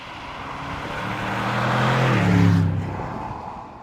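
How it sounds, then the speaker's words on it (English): A 2023 Audi S8 with a smooth, torquey V8 (800 Nm) gives a steady low engine hum that swells toward the middle of the recording and then eases back, heard from inside the car without talk. "And this is such a nice engine. It's just so smooth and torquey."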